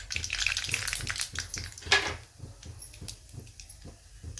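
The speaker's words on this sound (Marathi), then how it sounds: "मोहरी तडतडायला लागली" Mustard seeds pop and crackle in hot oil in a kadhai over a gas flame, sharp irregular snaps close up, with a brief louder burst of sizzling partway through.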